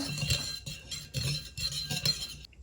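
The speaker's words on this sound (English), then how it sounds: "now we're gonna give it a quick stir" Metal utensil clinks and scrapes against a pan while garlic sauce is stirred, a few quick clinking strokes close up with short pauses, no talking.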